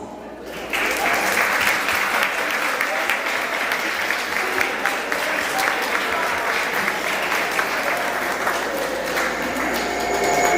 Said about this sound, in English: turn around where we're standing and salute each other with an applause